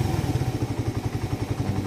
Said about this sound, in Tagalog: O, stable na yung RPM na yan.